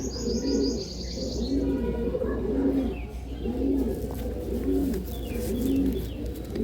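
Pigeons of a fancy breed, kept for sale, coo in a low repeated rhythmic pattern, about six soft throaty coos, with brief chirps and twittering from other birds early on.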